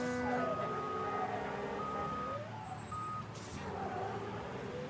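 Repeated reversing beeps of a truck in the video game Mafia III sound over a steady engine rumble, close and fairly loud.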